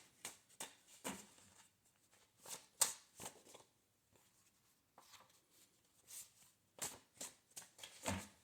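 Tarot cards are shuffled by hand in a series of soft, close riffles and flicks. The bursts are irregular and separated by quiet pauses. Overall the sound is faint and there is no speech.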